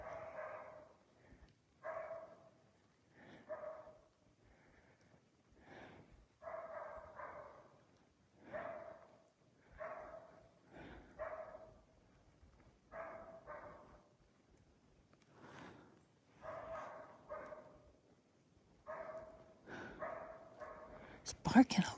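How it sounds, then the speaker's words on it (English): Repeated barks and yips from a wolf or coyote far off in the Sierra Nevada, coming in regular bursts with pauses between, faint and alone in a quiet setting. "He's barking a lot."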